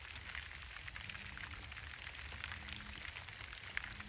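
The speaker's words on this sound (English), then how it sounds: "trying to do it in a hurry because it's raining" Steady rain falls on a garden during a harvest of chamomile, marshmallow and sage, making an even hiss with scattered sharper drop taps and a faint low rumble underneath, with no talking.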